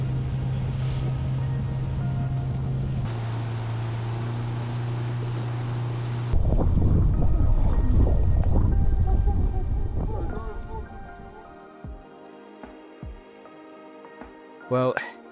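Antarctic wind with snow and sleet, heard as a loud, low rumbling gust buffeting the microphone in the middle stretch, set among other steady outdoor noise that quietens toward the end.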